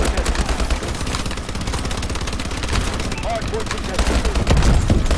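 Rapid automatic gunfire from the Call of Duty Advanced Warfare video game rattles in dense, continuous bursts, loud and close, with a player talking over the shooting.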